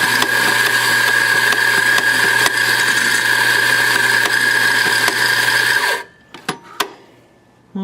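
Mazzer Super Jolly coffee grinder grinding beans: a loud, steady mechanical whine close by that runs for about six seconds, then cuts off, leaving a few clicks and knocks.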